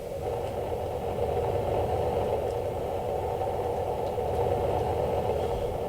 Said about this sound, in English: Jetpack.